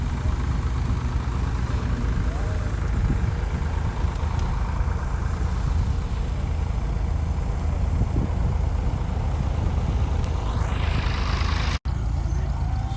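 A Ford tractor engine idling at a plow match, a steady low rumbling drone that runs evenly throughout, with a brief rising whine near the end.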